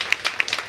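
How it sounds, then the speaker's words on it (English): A handful of sparse, sharp claps at a live spoken-word poetry event, a few separate hand strikes close by in under a second, light and brief rather than full applause. "And then there's after the poem clapping"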